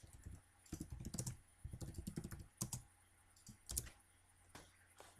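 Keys clatter on a computer keyboard as a chat message is typed, in quick, uneven bursts of close, soft clicks with short pauses between them.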